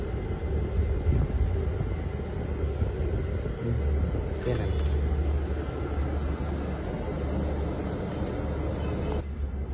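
A bus on the road between Bangalore and Tirupati gives a steady low engine and road rumble that runs through the whole stretch, with a person talking over it.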